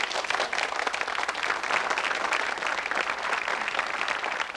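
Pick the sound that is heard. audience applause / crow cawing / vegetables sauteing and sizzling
audience applause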